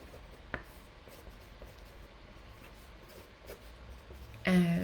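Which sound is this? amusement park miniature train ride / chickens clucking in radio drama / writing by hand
writing by hand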